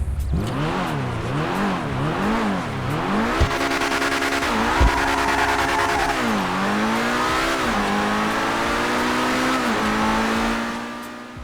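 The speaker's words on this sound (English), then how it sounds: "For vehicle number 9, we have the Pegassi Reaper." A Pegassi Reaper supercar in GTA 5 is driven hard. Its engine revs up and down in quick swells, then climbs steadily through gear changes with a loud, sustained whine that fades out at the end.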